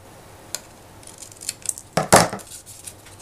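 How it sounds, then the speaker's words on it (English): Scissors notch the ends of heart-pattern craft paper for a Valentine project, a few quiet isolated snips followed by a louder, sharper cut near the end, close up with no talk. "I'm going to notch the ends of this Photo Freedom heart pattern paper"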